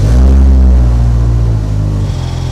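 A 2009 Subaru STI hatchback engine rumbles loudly and close, a deep steady drone that shifts pitch slightly as it revs and then settles.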